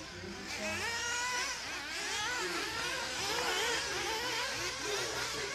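A pack of 1/8 scale off-road RC race cars at a European championship whine around the track, high buzzing nitro engines rising and falling in pitch as they accelerate, overlapping near and far.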